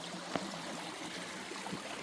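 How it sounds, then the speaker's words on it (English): A creek running after it had been flowing dirty a few hours earlier makes a steady, even outdoor rush of water, with a faint splash or two and no talk. "Creek is running nice."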